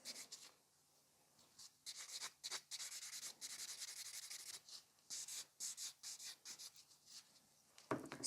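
A worn nail buffer rubs a nail tip to a matte finish, a soft, close scratchy scuffing in quick irregular bursts of short strokes that is faint overall and heard alone.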